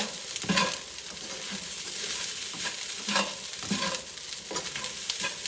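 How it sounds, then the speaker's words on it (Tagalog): Brown fried rice is stirred in a hot pan, a steady close sizzle broken by rhythmic scraping strokes of the spatula. "I-mix natin. I-stir natin siya."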